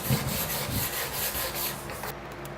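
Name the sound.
wire brush scrubbing rust off metal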